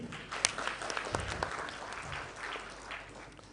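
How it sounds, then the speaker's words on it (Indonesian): Audience applause at a university student seminar, moderate and steady for a few seconds, slightly distant in the room, with no talking over it. "Jadi kita beri tepuk tangan lagi."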